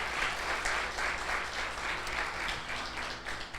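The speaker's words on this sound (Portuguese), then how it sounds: "Salva de palmas para o nosso Deus" A church congregation applauds during a campaign worship service, a steady wash of many hands clapping for a few seconds at moderate distance, with no talk over it.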